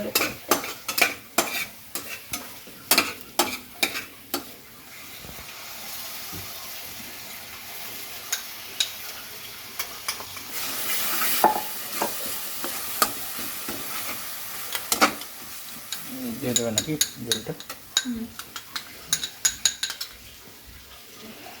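Food frying golden brown in butter in a pan, giving a loud, steady sizzle broken by rhythmic clinks and scrapes of a utensil stirring against the metal.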